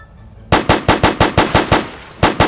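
Service rifle in a Roblox game firing about ten sharp, loud shots in a steady semi-automatic rhythm after a short quiet start, with a brief gap before the last two.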